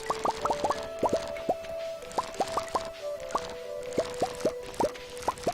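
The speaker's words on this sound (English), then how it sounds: "I'll water the corn, and the other cranberries" Water drips and plops in quick, irregular bursts as corn and cranberry crops are watered in a farming video game, with bright bubbly tones repeating over a soft background.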